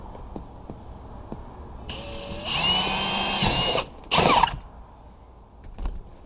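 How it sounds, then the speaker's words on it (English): A power drill whines up to speed and bores steadily for over a second, stops, then gives a short loud burst, with faint clicks before and after. "I'm going to drill a hole in it right here."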